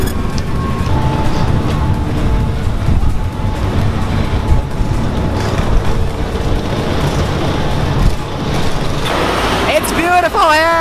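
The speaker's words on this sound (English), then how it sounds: "Just gonna go on one train and then we are in Halden and meet Teodor Karlsen." Train ride between Moss and Halden in Norway, a loud steady rumble of the moving carriage with a faint tonal whine, ending in a squealing pitch sweep; people talk throughout.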